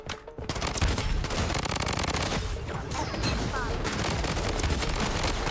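Dense, continuous automatic gunfire and rapid shots from the video game Blood Strike, loud and close throughout with overlapping bursts and booms, game voice callouts mixed in.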